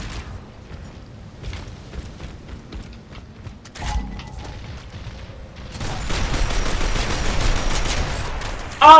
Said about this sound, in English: Oh, that pistol shot!